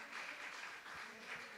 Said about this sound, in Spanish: Vamos a darle a nuestro Dios un fuerte aplauso.